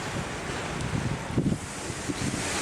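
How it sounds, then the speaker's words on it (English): Steady wind buffets the microphone aboard a sailboat under refit, with a rough, constant roar and low thumping gusts, close and fairly loud, no voices. "Bit windy up here, I'm afraid."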